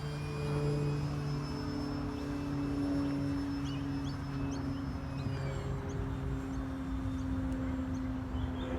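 A Carbon Cub S+ RC model airplane makes a low pass, its small propeller motor giving a steady droning buzz that holds through the whole stretch at moderate distance over an outdoor breeze.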